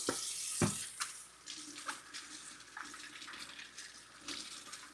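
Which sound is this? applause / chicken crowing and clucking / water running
water running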